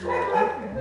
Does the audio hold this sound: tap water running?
no